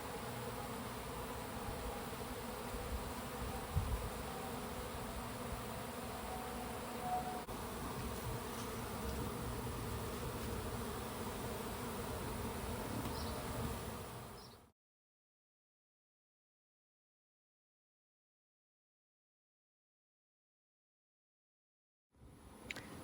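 A bee swarm buzzes around a hive in a dense, constant drone for about fifteen seconds. The sound then cuts to silence, and a faint burst of buzzing returns at the very end.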